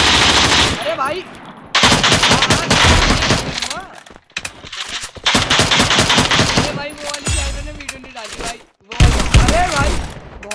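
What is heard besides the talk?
gunfire in the video game Free Fire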